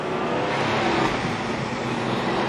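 A Porsche 993 Carrera engine with the stock factory airbox and stock mufflers runs in a loud, steady, broadband roar, close and continuous with no talking.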